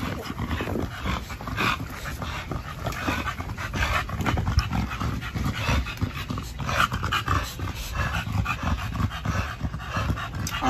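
Several dogs and puppies at a kennel pant steadily and whimper, with short yips breaking through a continuous close, fairly loud breathy texture across the whole stretch.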